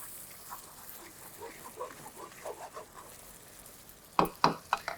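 Tadka of whole red chillies and cumin seeds sizzling in hot oil for dal makhani, a low steady crackle with stirring, then several sharp loud spitting pops near the end.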